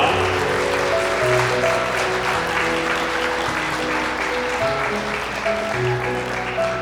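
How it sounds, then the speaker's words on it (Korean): Steady, dense applause from wedding guests in a hotel grand ballroom as the bride and groom bow, with music playing underneath throughout. "신랑 신부 인사 박수 부탁드리겠습니다."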